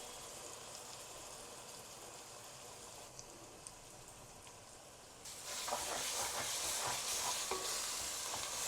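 Spice paste for kushka frying in hot oil gives a steady, close hiss that swells into a louder, fuller sizzle with stirring partway through, with no voices.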